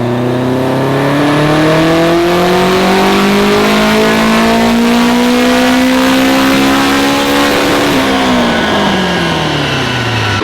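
A turbocharged Honda on a dyno makes a full-throttle pull on E85 fuel. The engine roars steadily and loudly, its pitch climbing for about eight seconds before it drops sharply as the throttle closes and it winds down.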